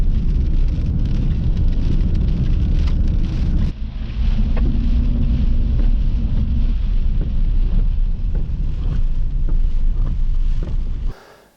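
Rain and strong wind in a serious rainstorm roar loudly against the microphone, a dense continuous wash with scattered pattering hits, dipping briefly midway before cutting off abruptly at the end.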